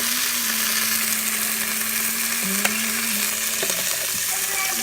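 Steady, loud sizzling of a whole chicken searing in a hot Farberware pressure cooker pot, with a low hum underneath and a few small clicks and knocks.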